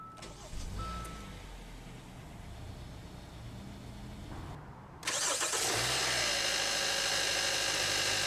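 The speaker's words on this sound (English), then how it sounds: "let's go ahead and start the engine." A 2017 Hyundai Santa Fe Sport with the 2.4L engine, a front-wheel-drive midsize crossover, cranks and catches at about five seconds, then settles into a loud, steady idle close by. Before the start there is only quiet cabin ambience.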